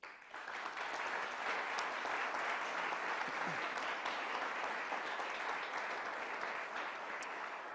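Loud, sustained applause from an audience at the 2018 Dutchess County Executive budget presentation fills the room and holds steady for several seconds without a break.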